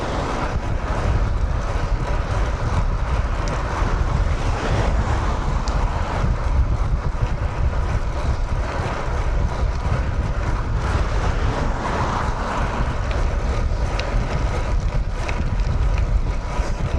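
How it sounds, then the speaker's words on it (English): Strong wind roars steadily into the microphone during a solo endurance road ride in Mallorca, heading into a headwind, a loud, continuous low buffeting rumble with no talk. "And definitely into the wind."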